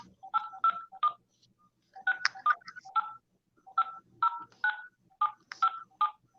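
Telephone keypad tones beep in short bursts of two or three, then a longer run of separate presses, clear and close with silent gaps between groups, no voices.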